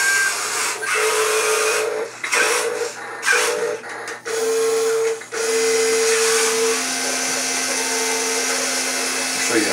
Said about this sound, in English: And it makes real forklift noises.